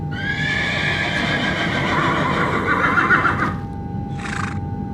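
A horse sound effect gives a long, loud, shaking neigh that lasts several seconds and then cuts off, followed by a brief snort or short burst, all heard close up over a steady background hum.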